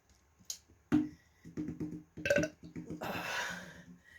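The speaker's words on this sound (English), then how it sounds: "That's not going to make me burp any faster" A burp during a family burping contest after chugging a drink, a short throaty belch among scattered breaths, clicks and rustling, close and fairly quiet.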